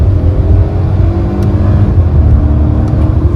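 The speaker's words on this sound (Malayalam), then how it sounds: "ആ ഒരു എക്സോസ്റ്റ് നോട്ട് വീഡിയോയിൽ എത്രമാത്രം കിട്ടുന്നുണ്ട് അറിയില്ല" A Hyundai Venue N Line accelerates with a deep, loud, continuous exhaust drone heard from inside the car, and no one speaks.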